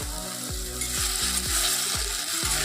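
Food frying in a pan in a home kitchen, a loud, dense, crackling sizzle overlaid by a steady, regular rhythm of stirring strokes, close and continuous with no talking.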